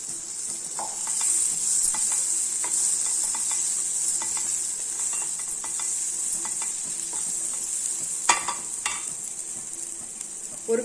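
Steady oil sizzle of frying cowpeas (karamani) with stirring scrapes and a few utensil clinks, continuous and close throughout.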